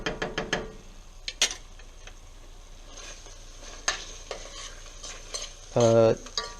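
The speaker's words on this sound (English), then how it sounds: "all I'm going to do is just let this simmer" Beef stroganoff with tomato simmers in a stainless pot with a faint, low sizzle. Sharp spoon knocks and stirring clicks come at the start and through the middle, and a short steady tone sounds near the end.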